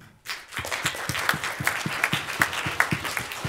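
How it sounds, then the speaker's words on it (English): An audience at an end-of-event awards gathering applauds the college teaching staff, a steady crowd clapping with a strong regular beat as many hands fall into unison rhythm. "So I'd like to give a big round of applause to all of them."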